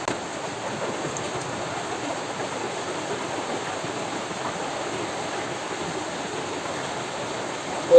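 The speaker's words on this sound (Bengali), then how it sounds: "বাহিরে মুষলধারে বৃষ্টি হইতেছে" Heavy rain pouring outside a village house, a steady dense hiss of downpour with no breaks, even and moderately loud throughout.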